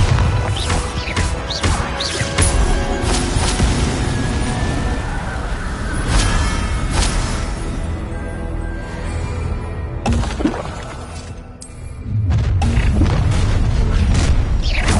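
A blasting spell explosion effect from a magic-school game fires off with loud booming crashes over continuous rumbling game noise, followed near the end by another heavy surge of impact.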